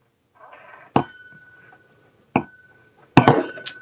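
Crystal drinking glasses clink sharply as they are handled, giving three or four bright, separate taps whose high ring lingers briefly, with quiet handling noises in between.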